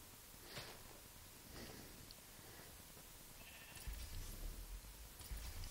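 A few faint Minecraft sheep bleats come through over a low, steady background hum.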